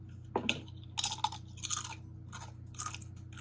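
Close, crisp crunching of a chip being bitten and chewed, a sharp first bite followed by several rhythmic crunches, alone over a low steady hum.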